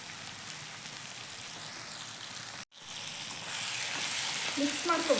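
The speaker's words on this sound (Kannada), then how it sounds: "ಸಾಕಷ್ಟು ಫ್ರೈ ಮಾಡಿಕೊಂಡ್ರೆ ಇವಾಗ ಲಾಸ್ಟಲ್ಲಿ ರುಬ್ಬಿಟ್ಕೊಂಡಿರೋಂಥ ಪೇಸ್ಟ್ ಹಾಕೋತಾ ಇದ್ದೀನಿ" Ground masala paste sizzles steadily in hot oil with fried onions for a chicken gravy, a close, even crackle that cuts out for a split second and then grows slightly louder and busier.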